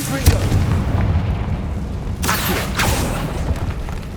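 The Confringo explosion spell in the Hogwarts Legacy video game, sharp booming blasts near the start and again midway through, ringing out over steady game background noise.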